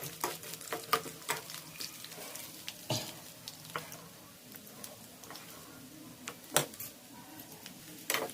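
A spoon stirs a sweetened mixture in a pan while it sizzles gently, giving irregular scraping clicks and taps against the pan over a soft, continuous frying hiss, with no talking.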